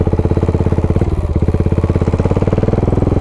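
Big single-cylinder motorcycle engine pulling away, a loud close thumping beat of rapid even pulses that quickens slightly as it rides off, with no voices.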